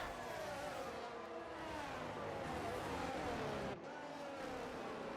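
A Ferrari race car in a racing video game roars at steady high revs, its engine note sweeping and shifting, with a brief dip near the end, loud and continuous.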